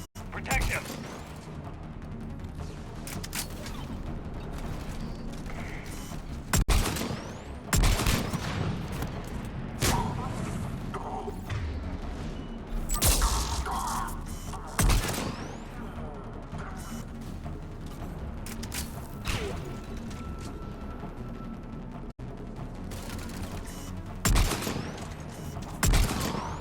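Mass Effect 3 combat firefight: repeated gunshots and heavy booming impacts, irregular and dense, layered over steady battle noise and mechanical clanks, with voices speaking in places.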